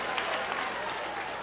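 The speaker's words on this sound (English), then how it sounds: "Everyone give him a big round of applause." Audience applause at an education session, a dense, steady wash of many hands clapping at moderate level for the full stretch, with a voice faintly mixed in.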